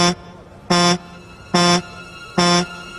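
A loud electronic alarm in the Hitman Absolution video game blares in four evenly spaced honking blasts, each lasting about a quarter second, with quiet gaps between them and no talk.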